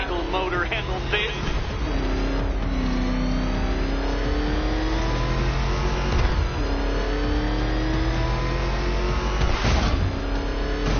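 A car engine revs hard in a Batman video game, rising and falling through gear changes with a loud roaring whine, accompanied by game dialogue and background sound.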